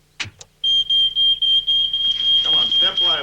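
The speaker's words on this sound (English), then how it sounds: "what do you do when there is an alarm?" A home smoke alarm sounding during a fire drill: after a couple of brief sounds, a loud piercing electronic tone repeats in rapid pulses, close by, with voices talking over it toward the end.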